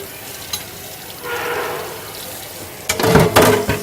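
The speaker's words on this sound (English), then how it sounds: "So I let the water running and I clean it up inside." Tap water runs while the inside of a yogurt machine is cleaned, a steady hiss that swells into louder splashing and scrubbing bursts near the end, with no talk.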